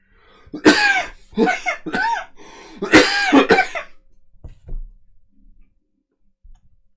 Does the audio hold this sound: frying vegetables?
no